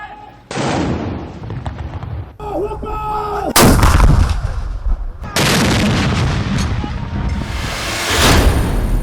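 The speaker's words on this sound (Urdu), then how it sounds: "دن کے آغاز پر وفاقی اور صوبائی دارالحکومتوں میں توپوں کی سلامی۔" Artillery cannons fire a dawn salute for Pakistan's Independence Day in the federal and provincial capitals, with loud, booming blasts in sequence and broadcast narration running beneath them.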